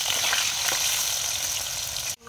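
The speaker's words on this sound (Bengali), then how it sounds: "ওই তেলেই আমি আলু আর ফুলকপিটাকে ভালো করে ভেজে নেব।" Potatoes frying in hot oil in a pan, used after frying rohu fish, with a loud, dense, continuous sizzle close up that cuts off abruptly at the end.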